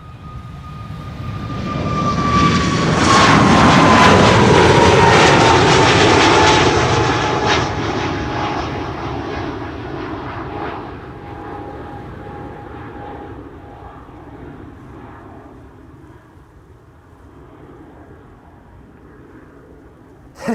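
A Boeing 737 Max 9 jet takes off from Amsterdam Schiphol's Polderbaan runway 36L on a windy day, its engine roar building loud with a high whine, then fading steadily as it climbs away.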